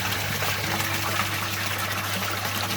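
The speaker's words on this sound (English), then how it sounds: "Now the full siphon's starting." Water from an aquaponics grow bed drains through a siphon in a steady, close rushing gurgle that holds an even level throughout.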